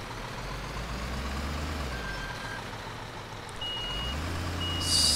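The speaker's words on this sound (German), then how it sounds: "Gut, dann fahren wir dahin mit dem LKW. Nicht mit dem Bagger, sondern mit dem LKW." A truck in Construction Simulator 2015 with a steady low engine drone that dips and then swells as it drives, and a short burst of higher noise right at the end.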